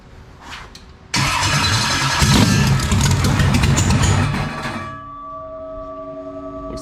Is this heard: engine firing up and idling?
yes